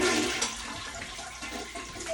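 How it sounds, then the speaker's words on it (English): A toilet flushes nearby in a loud rushing burst of water that tapers into a steady, hissing refill, with no voices. "I'm supposed to go and flush the toilet again."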